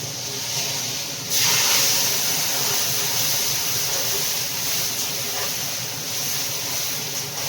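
Bhetki fish slides into simmering mustard sauce, setting off a loud broad hiss and bubbling sizzle that jumps up sharply early on and then holds steady without speech.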